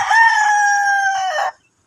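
A fighting rooster gives one loud, drawn-out crow close by, then falls silent.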